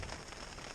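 Rain patters onto a sailing boat at sea, a soft, even hiss of drops without break, faint and brief.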